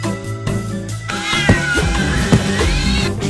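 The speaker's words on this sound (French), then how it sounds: "Les chats de gouttière ont repris le contrôle des rues." Alley cats meow and caterwaul in a loud, continuous chorus of overlapping, drawn-out cries with a couple of sharper yowls standing out, and no one speaks.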